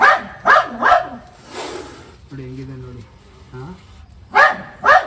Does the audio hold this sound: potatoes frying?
no